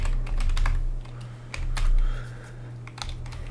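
Code typed on a computer keyboard in a C# Godot Mono project, with bursts of quick close-up key clicks, short pauses between them, and a low steady hum underneath.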